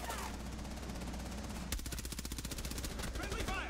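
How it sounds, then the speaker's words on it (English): Rapid automatic gunfire from the tactical shooter Rainbow Six Siege on the Consulate map, with sustained bursts and a sharp loud shot near the middle followed by a steady rattling stream of rounds, dense and close. "They're shooting into from the B window."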